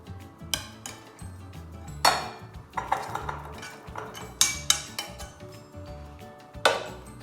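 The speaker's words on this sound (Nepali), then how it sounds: "यसलाई चाहिँ अब म यो बेसनमा खाली गर्दैछु" Metal clatter as mutton meatballs tumble into a metal bowl, with several sharp clinks and knocks scattered irregularly over a few seconds.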